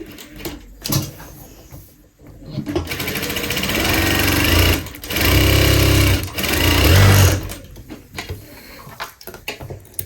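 A sewing machine stitches the V neck of a kurti in short loud whirring bursts, stopping and restarting several times as the fabric is turned, close up with no talking.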